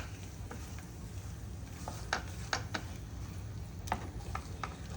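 Eggs cooking over low gas in a pan for Parsi akuri: a continuous soft sizzle with several sharp spoon or spatula taps and scrapes against the pan, close and moderately quiet.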